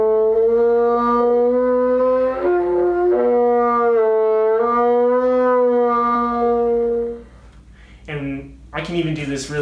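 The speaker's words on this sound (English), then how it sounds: "We can do glissandos." Bassoon tones slide smoothly up and down in glissandos, a close solo line with wavering pitch, followed by a brief burst of talking at the end.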